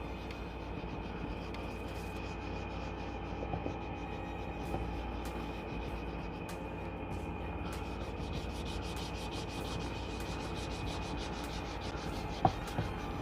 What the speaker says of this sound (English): we'll continue buffing it in and then drying it off right quick